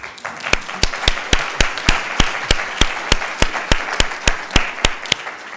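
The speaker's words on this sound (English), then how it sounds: "but we could applaud anyway." An audience at a lecture applauds with crisp, evenly spaced claps at a steady quick pulse, fairly close and moderately loud, over a faint hum and without talk.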